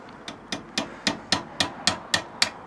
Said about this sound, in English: a bit more with the hammer